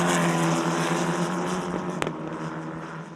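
An E4 Championship race car at the Paul Ricard circuit gives a loud, high engine drone with a steady pitch. A brief sharp crack cuts in near the two-second mark, and then the drone fades slightly.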